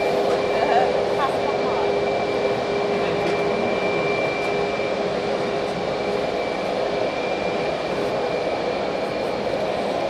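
A Lufthansa airliner at Hamburg Airport rumbles with a steady, continuous engine roar and whine that holds at a fairly loud level throughout, with people talking faintly over it.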